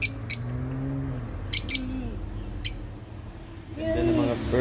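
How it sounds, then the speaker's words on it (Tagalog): Birds chirp in a few bright, brief bursts over a low background hum, with a voice talking between them. "Ganda ng mga bird."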